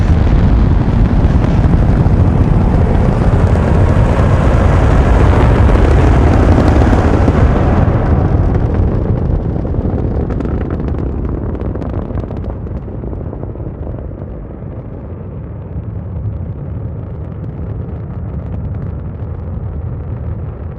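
A SpaceX Starship rocket launch gives a loud, broad, continuous roar that holds strong for several seconds, then slowly fades and dulls as it moves away into the distance.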